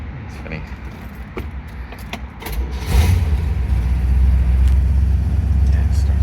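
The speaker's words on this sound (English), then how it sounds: "it starts up like a brand new car" Keys jingle and rattle, then a 1965 Pontiac GTO's 389 Tri-Power V8 cranks and settles into a steady low idle, with people talking over it.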